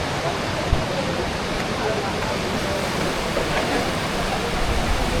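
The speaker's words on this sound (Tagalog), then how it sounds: "Kasi malakas yung tubig, yung current." Rushing white-water river in Cagayan de Oro roars as a dense, constant wash of noise, loud and close, with no pauses.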